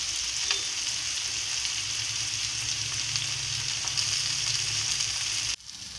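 Broad beans fry in a pan with a steady, close sizzle and occasional stirring scrapes, continuing unbroken before the level drops briefly near the end.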